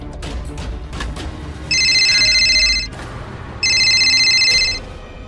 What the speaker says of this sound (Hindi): आपके मोबाइल पे बार बार किसी और का कॉल आ रहा है